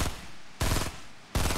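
Gunfire in the Fortnite video game: loud, dense bursts of rapid shots, one long volley followed by another starting about two-thirds of a second later, with no speech.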